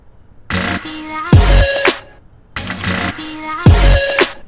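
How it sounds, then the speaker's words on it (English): Electronic music drop processed through Ableton's Redux bit crusher, playing as two loud repeated phrases with gritty, crunchy synth tones and heavy bass hits, separated by a short gap. "it's basically just a simple bit crusher, and it sounds like this."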